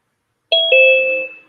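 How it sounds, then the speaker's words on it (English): A doorbell gives a single two-tone ding-dong, loud and close, the second tone ringing out and slowly fading in an otherwise quiet room. "Oh, doorbell."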